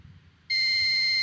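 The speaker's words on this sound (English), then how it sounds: "the buzzer will go for 3 seconds" A steady high-pitched electronic buzzer on an Arduino laser module switches on abruptly and holds loud and constant for about three seconds after a moment of near quiet.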